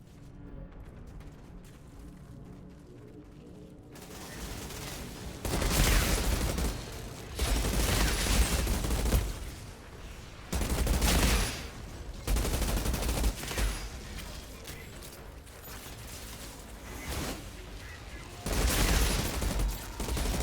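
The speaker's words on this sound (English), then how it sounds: "Man, this gun is very powerful." Powerful weapon fire in the sci-fi shooter Outriders, coming as heavy rapid bursts in several separate volleys after a quieter opening, each burst loud and close with brief pauses between.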